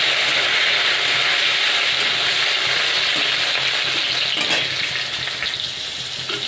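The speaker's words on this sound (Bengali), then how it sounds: "কালো সর্ষে আর একটি শুকনো লঙ্কা। আমি আমটা দিয়ে ভেজে নেব," Mango pieces frying in hot oil with black mustard seeds and a dried chilli, a loud continuous sizzle with stirring scrapes that eases off slightly toward the end, no talking.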